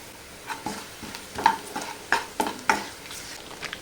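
Chili powder, turmeric and other ground spices frying in a pan for chicken chili, with a faint sizzle under quick repeated scraping stir strokes, close and rhythmic.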